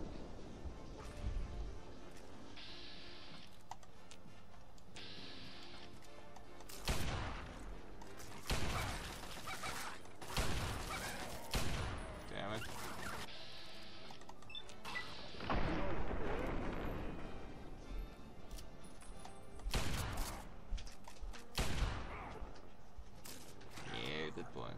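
Gunfire in the Fallout 3 video game, rapid bursts and single heavy shots booming irregularly across the stretch, interspersed with in-game sounds and occasional voices, fairly quiet overall.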